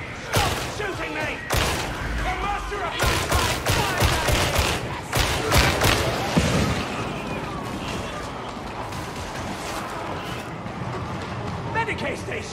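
Gunfire rattles in bursts during Warhammer 40,000: Darktide gameplay, loud and dense for the first several seconds before thinning out, with shouting voices over the action.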